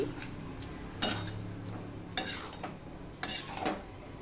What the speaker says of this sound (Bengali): আর একটুখানি ঘি দিয়ে দিলাম এবারে পুরো দেখ পুরো নেড়ে নেবো ভালো করে